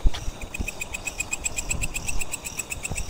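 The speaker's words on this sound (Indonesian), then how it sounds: "Sini ada jangkrik." Crickets chirp at night in a steady, rapid pulsing trill, fairly close and clear over low rumbling handling noise, with no talking.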